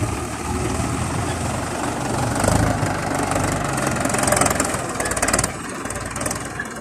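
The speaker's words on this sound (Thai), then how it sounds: "นี่รถไถฟอร์ดคันนี้" A Ford 6600 farm tractor engine runs steadily at close range, a rough, knocking diesel idle with continuous low vibration and slight swells in loudness.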